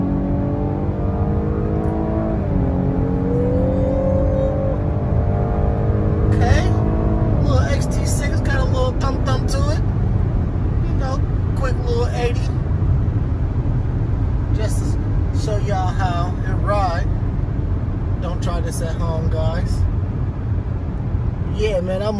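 A 2021 Cadillac XT6 accelerating on the road, its engine drone climbing in pitch through the gears under steady road and cabin noise, while a person talks over much of it.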